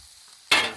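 A squirt of oil hits a hot griddle being readied for quesadillas. Near-silence gives way to a sudden loud, close sizzle that holds briefly and then begins to ease.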